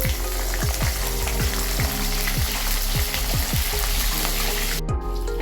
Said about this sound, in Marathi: आता आपण आलू आणि गोबी हे दोन्ही फ्राय करून घेऊ